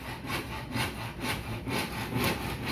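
A handsaw cuts small wooden spacer blocks at a beach house build site, with about eight quick rhythmic back-and-forth strokes, each a rasping scrape, fairly close and moderately quiet, with no talking.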